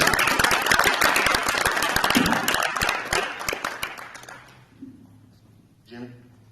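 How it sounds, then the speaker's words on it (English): A crowd claps loudly at a high school signing day event, dense applause that tapers off over a few seconds before a voice speaks near the end. "Let's give him a round of applause right here."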